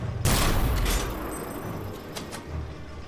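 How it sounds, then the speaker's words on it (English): A mortar fires in the Iron Harvest game with a heavy boom and a long rumbling tail, followed by a few fainter thuds of battle in the distance. "Deploying mortar."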